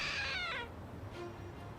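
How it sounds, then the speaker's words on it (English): A trick cat statue in the Lost Judgment video game gives one clear, high meow that falls away after about half a second, followed by quiet background. "It meowed."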